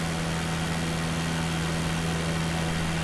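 A Pitts aerobatic biplane engine in Microsoft Flight Simulator 2020 drones at a steady idle, a loud, constant low hum with a strong tonal buzz, heard alone and unchanging throughout.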